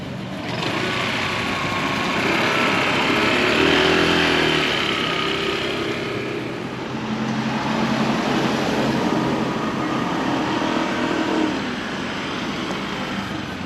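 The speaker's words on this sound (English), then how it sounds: "this is some of the traffic I have to deal with" Road traffic on a street in Thailand, with cars and motorbikes passing close by in overlapping waves of engine noise and a continuous rumble throughout, no one speaking.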